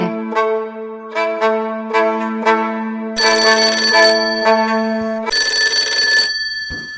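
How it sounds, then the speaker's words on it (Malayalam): A mobile phone ringtone plays a repeating melodic electronic tune, loud and close, in regular bursts that shift to brighter, higher tones partway through, with no talking. "ഫോണ് പെല്ലടിക്കുന്നുണ്ടായിരുന്നു"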